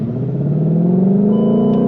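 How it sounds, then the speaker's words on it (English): Ford Shelby GT500 pulling hard under acceleration, a loud close engine rumble with a rising supercharger whine climbing steadily in pitch over two seconds, with no talking. "I hear a little bit of supercharger whine."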